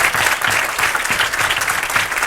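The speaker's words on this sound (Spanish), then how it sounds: "Un aplauso grande a Jesús de Nazaret y a los pobres que nos hacen despertar en Santiago" A crowd at a student forum-discussion event in Santiago breaks into loud, continuous applause, dense clapping filling the whole stretch without a break.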